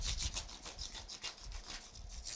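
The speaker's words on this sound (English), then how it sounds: "You need to go through 4 or 5 different sandpapers." Rhythmic back-and-forth sanding of an electric guitar body with sandpaper, a soft scratchy rasp repeating quickly and evenly, close up and fairly quiet.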